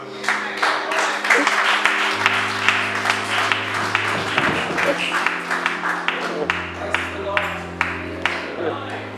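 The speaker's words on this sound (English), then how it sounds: "Graceful applause." Applause from a congregation at a thanksgiving service, steady clapping heard over sustained organ or keyboard chords, moderately loud and continuous.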